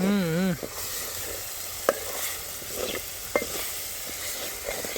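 Garlic paste sizzles in a hot pan for a paneer dish, a dense frying hiss broken by a few sharp scrapes of a spoon stirring, close and fairly loud.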